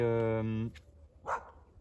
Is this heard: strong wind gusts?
no